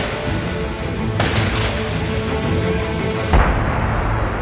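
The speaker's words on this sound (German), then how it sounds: "Im gleichen Augenblick wurde der Nebel vom Knall von 50 Musketen erschüttert." A volley of musket gunfire in a foggy battle scene from an audio drama: loud sharp cracks with a rumbling boom, set against a dense continuous battle din, with no speech.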